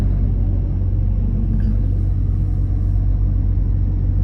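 Truck cab interior as the lorry rejoins a UK motorway, with a steady deep engine and road rumble that stays constant and close throughout.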